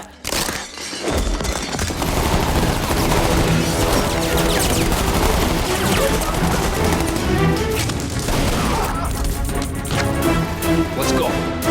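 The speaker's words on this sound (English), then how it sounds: "Two cops are outside when they hear gunshots." Gunfire erupts in a Punisher film scene, with bursts of shots, sharp cracks and breaking debris layered over a loud, dense action soundtrack that runs nearly continuously.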